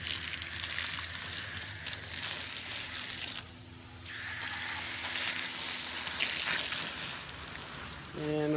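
Water is poured onto a compost pile of cow manure mixed with hay, giving a continuous broad splashing hiss with a brief lull midway before the flow resumes, heard close and steady.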